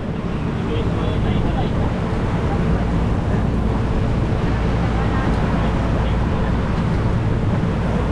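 A Philippine motor boat (bangka) engine drones steadily beneath loud wind and water noise, continuous and fairly close throughout, with voices faintly mixed in.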